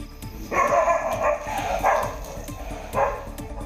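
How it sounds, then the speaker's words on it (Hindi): Stray dogs bark from a distance near a village petrol pump where a lion is roaming, several bursts of barking in irregular succession over a faint background hum. "दूर से कुछ आवारा कुत्ते भी भौंक रहे थे"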